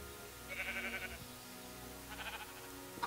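Two soft, distant sheep bleats from Minecraft, one early and a shorter one near the end, faint over a steady background of game ambience and low hum.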